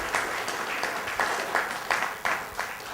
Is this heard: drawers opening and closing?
no